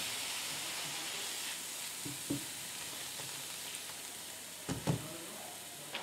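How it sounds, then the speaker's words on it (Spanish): Garlic sautéing in a pan over medium heat for a potato and ham scramble, a soft continuous sizzle broken by a few light clicks and taps of stirring. "Lo vamos a sofreír a fuego medio"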